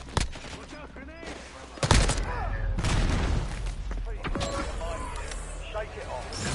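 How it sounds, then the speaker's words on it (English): In the Warzone shooter game, gunfire cracks and a grenade blast erupt in sharp bursts followed by a sustained rumbling roar, with voices talking over the combat. "Look out, grenade!"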